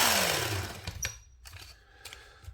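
A Work Sharp Ken Onion belt sharpener grinds a knife on a stiff belt, a loud motor whine that winds down and fades, followed by light scattered scrapes and taps.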